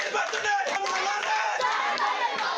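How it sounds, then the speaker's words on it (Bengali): Party supporters celebrate an election victory, their crowd noise a dense, continuous roar of overlapping shouts and cheers with scattered claps, loud and close throughout. "বিজয় উল্লাসে মাতোয়ারা কর্মী সমর্থক।"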